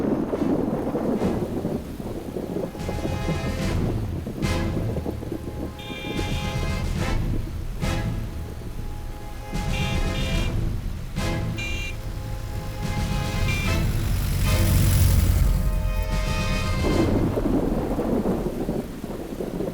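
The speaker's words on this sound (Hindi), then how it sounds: "बारिश होने वाली है" Heavy rain pours without a break during a thunderstorm, with repeated thunder cracks and low rumbles across the whole stretch, loud and close, swelling near the end.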